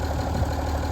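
A 1975 White 2-150 tractor engine running smoothly after sitting idle for 19 years, a steady low diesel idle with an even, throbbing rumble heard close up and alone.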